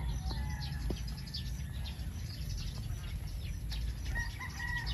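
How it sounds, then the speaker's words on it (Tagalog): Chickens, hens and pullets on a farm cluck and call faintly in the background over steady low outdoor noise, with a few short, scattered bird calls and no talk. "Nagkalat dito sa magagandang inahin at dumalaga oh."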